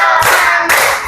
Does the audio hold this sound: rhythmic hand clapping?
yes